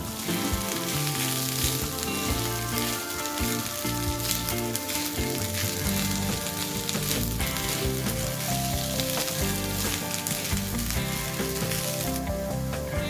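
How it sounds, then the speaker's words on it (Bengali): Rice frying in a pan over a low to medium flame for a Bengali pushpanna dish, a loud continuous sizzle with stirring scrapes running steadily throughout. "চালটা দেবার পর প্রায় 4 থেকে 5 মিনিট সময় নিয়ে চালটাকে লো টু মিডিয়াম ফ্লেমে ভেজে নেব।"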